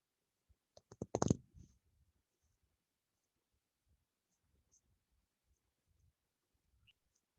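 A few quick mouse clicks on a computer land in a tight burst near the start, close and crisp, followed by near silence with only faint scattered ticks.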